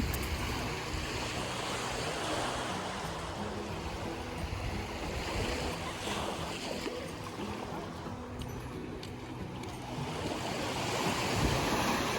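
Sea surf on Hat Thapthim, a small beach on Koh Samet, washes in a steady, loud, close roar mixed with wind buffeting the microphone and no clear talking.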